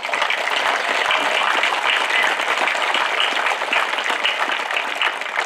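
Audience applause fills a high school graduation ceremony hall, dense, sustained clapping from a large crowd holding at an even level throughout.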